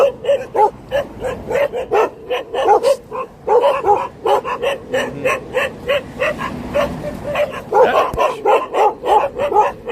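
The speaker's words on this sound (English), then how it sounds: "Tough guy dogs here." Several dogs bark repeatedly on a city street, loud and close, in rapid overlapping bursts with yips and whimpers, while a voice shouts over them.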